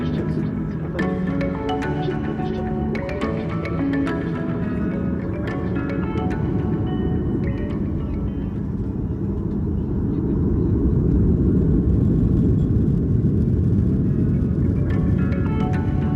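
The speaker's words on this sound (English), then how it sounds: "Eventually, we were pushed back to taxi our way out to the runway." Budget airliner taxiing out to the runway at Warsaw, heard from inside the cabin as a steady low engine rumble and drone that builds slightly toward the end, with scattered clicks and cabin sounds in the first half.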